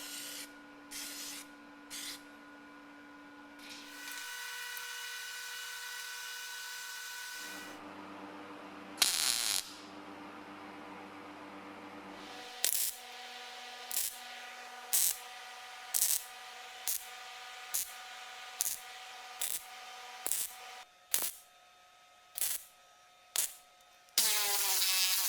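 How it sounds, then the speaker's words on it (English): Bursts of high, rasping grinding from a finger belt sander with 60-grit belts grinding down steel welds on a Mercedes W123 body, starting and stopping repeatedly with short pauses between passes, close up. "I'm using 60 grit sanding belts on the finger sander to grind down my excessively high welds"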